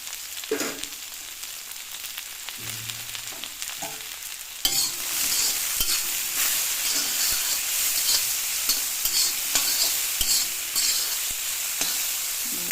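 Potatoes and bitter gourd frying in a pan with salt and turmeric, a light crackle with spoon scrapes that swells into a loud, steady sizzle partway through, stirring clatter continuing over it.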